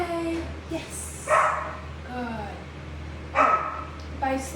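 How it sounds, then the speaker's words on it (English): Several dogs bark and yip in short separate bursts, close by in a kennel area, while someone speaks calmly over them and a low steady hum runs underneath. "ignore the dogs out there, they're a little jealous"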